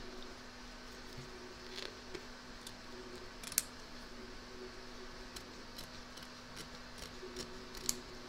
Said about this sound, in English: Trim up the excess fabric from both back and front of your hoop